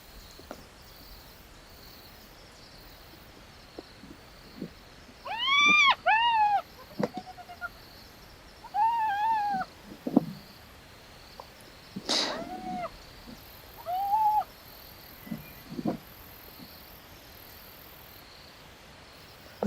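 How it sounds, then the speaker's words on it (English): A single hyena gives rising whooping, yelping calls over a carcass at night, several short bursts spaced a few seconds apart, moderately near, above a constant chorus of crickets and insects. "if these are the sounds we're hearing from one hyena"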